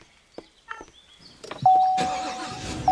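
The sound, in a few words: neighbor's truck engine outside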